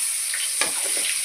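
Ginger garlic paste dropped into hot oil for tomato rice, a steady close sizzle with a brief sharper crackle as it hits the pan.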